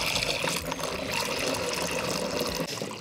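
Water gushing steadily into a container while two gallons are measured for a rammed earth sealer mix, a loud continuous close pour with no talking.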